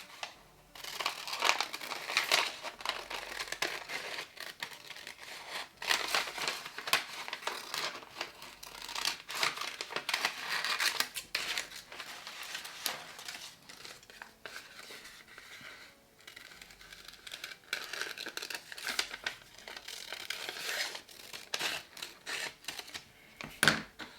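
A paper sewing pattern for a summer dress being cut, with rustling, crinkling paper and repeated snipping bursts, close and fairly steady throughout.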